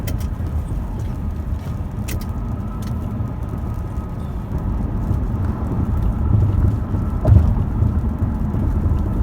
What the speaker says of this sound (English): It's starting to rain now, so hopefully it just stays light rain